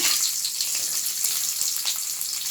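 Onions and dried coriander seeds fry in a pan for a drumstick leaf sambar, giving a soft, steady hissing sizzle much like running water, close and without talk.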